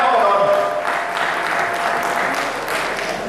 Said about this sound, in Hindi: प्रोफेसर दानिश मामून, आप जोरदार तालियों से इस्तकबाल कीजिएगा